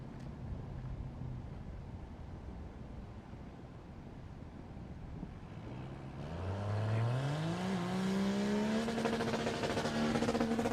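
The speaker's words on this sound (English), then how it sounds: "Nick Bell will be over there with his smoky burnout" A drag racing truck at a dragway does a smoky burnout, its engine note climbing from a low rumble into a loud, sustained rising whine over steady broadband roar, heard from a moderate distance.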